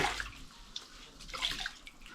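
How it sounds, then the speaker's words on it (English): Water splashes and sloshes as a mop is washed, close and fairly quiet with small irregular splashes and drips. "You can just wash your mop like this"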